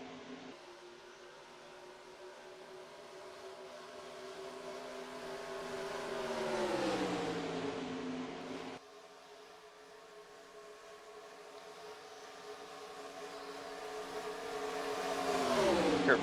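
Race cars roaring past at Daytona in the NR2003 racing game, engine tones swelling and dropping in pitch as cars sweep by, two loud passes with a cut between them and no talk.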